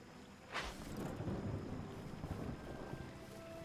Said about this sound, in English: Or is it just rain? Just a light rain.